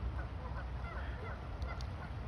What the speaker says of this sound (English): There's ducks out here.